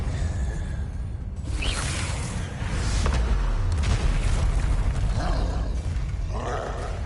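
Explosive spell blasts in the game Hogwarts Legacy, booming, rumbling whooshes that roll through a dense, noisy combat soundscape, heavy low-end bursts swelling mid-clip and fading out.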